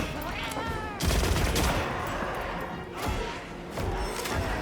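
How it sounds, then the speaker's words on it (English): A light bowgun in Monster Hunter Wilds fires bursts of rapid shots, loud and close, with sharp volleys near one, three and four seconds over a busy background of game sounds. "the light bowgun can do like chaser shots now"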